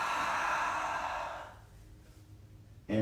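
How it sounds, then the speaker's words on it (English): A big open-mouth exhale during a power yoga session, a long breathy rush of air that fades over about a second and a half and then goes quiet. "Maybe big open mouth, exhale."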